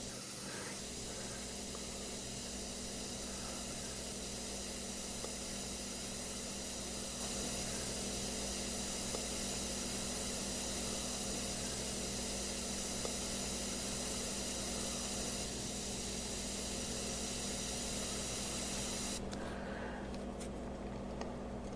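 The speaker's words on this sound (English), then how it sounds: "I am using the same airbrush. It's a gravity feed." A gravity feed airbrush at low air pressure sprays micro detail paint, giving a steady, close hiss that runs almost unbroken, with a slight change in tone near the end.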